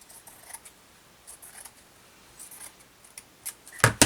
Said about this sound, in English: So I'm going to cut up here first.